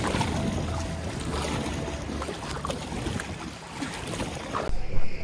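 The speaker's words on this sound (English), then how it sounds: "I feel like I'm on a motorboat." A motorboat powers across open sea on an island day trip off Krabi, Thailand, its engine a steady close rumble mixed with water rush and wind noise, with a louder gust or splash near the end.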